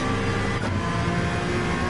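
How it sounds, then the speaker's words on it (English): A Honda NSX race car in Gran Turismo 7 holds a dense, steady high-rev engine roar at full volume throughout, with a slight dip and recovery near the start, and no talk. "It revs high, which is great if you forgot about your shift point because you're focusing on the track."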